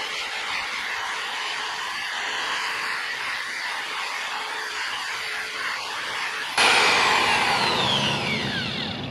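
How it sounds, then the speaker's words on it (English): Steady, close hiss of 500 grit sandpaper rubbed over a yellowed plastic car headlight, continuous for several seconds and shifting to a brighter, harsher scrape near the end, with no talking. "So first step, 500 grit sandpaper."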